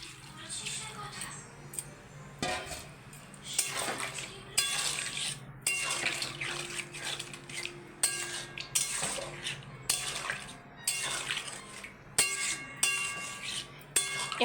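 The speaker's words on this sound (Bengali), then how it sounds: "এবার আমি জল দিয়ে দেবো।" Water is poured into a pan of soybean curry while metal utensils clink and scrape against the cookware in a steady, busy rhythm, with short pauses between bursts.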